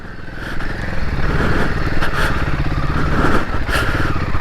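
A Royal Enfield Himalayan 450 motorcycle pulls away in first gear on a UK trail, its close, loud single-cylinder engine chugging steadily with a light clatter and no voices.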